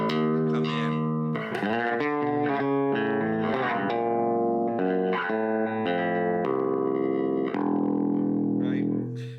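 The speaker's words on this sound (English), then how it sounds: "You can hear the alembic filter" Jazz bass guitar played through an Alembic filter, giving a dense, effected, sustained tone with shifting notes and steady loudness throughout, alone without talk.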